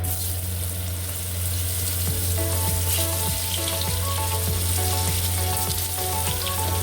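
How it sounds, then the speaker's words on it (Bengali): Chunks of bottle gourd fry in hot oil left from frying potatoes, for a bottle gourd and prawn curry; a loud, steady broadband sizzle runs throughout with scattered small pops and a low hum underneath. "ওই তেলের মধ্যে আমার আলুটা ভাজা হয়ে গেছে এবার লাউটা ভেজে নেব"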